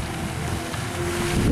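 Steady wind blows over open water at Saint-Paul while a 1/350 scale model of the battleship Bismarck sails, a continuous close rush of wind buffeting the microphone that strengthens toward the end, with no voices.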